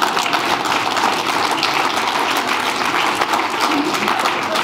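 An audience at a physician of the year awards ceremony claps loudly and continuously, a thick, even wash of many hands with no voices breaking through.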